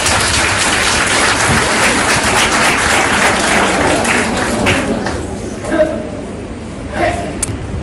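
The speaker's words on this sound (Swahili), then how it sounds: "Tumjipige makofi." An audience in a television news studio applauds, a dense burst of clapping that gradually thins and fades toward the end, with a few faint voices underneath.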